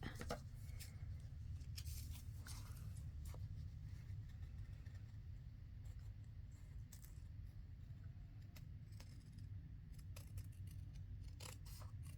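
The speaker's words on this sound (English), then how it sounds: "I'm just going to trim it off and then I'll just ink it." A paper journal card being trimmed with scissors: scattered crisp snips and cutting rustles over a steady low background hum.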